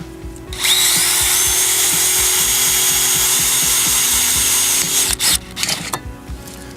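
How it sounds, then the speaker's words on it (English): A power drill with a 1/8 inch bit pre-drills holes for an aluminum railing installation, whirring loudly and steadily for about four seconds, then a few short bursts as it stops and restarts. "We're going to pre-drill using an 1/8 inch drill bit."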